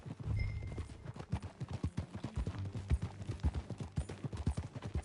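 A horse's hooves clip-clopping in Red Dead Redemption 2, a steady rhythmic run of hoofbeats at moderate loudness, with no talking.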